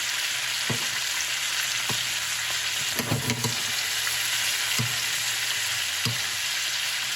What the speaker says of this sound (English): we are literally gonna baste our steak in butter